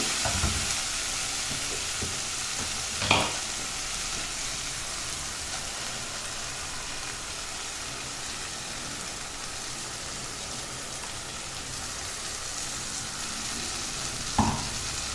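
Onions and ground masala sizzle steadily in a pan while cooking for Kumbakonam kadappa. The soft, even frying hiss is broken by two brief clinks of a utensil, and no one speaks.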